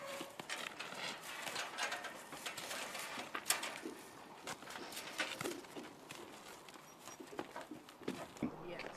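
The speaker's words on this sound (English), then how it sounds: "rector Denise Ross and her daughter Michelle treated their horses to a ride and treated us to some great video of horses" Horses being ridden give a run of quiet, uneven hoof clip-clops at some distance, mixed with faint bird calls and outdoor background.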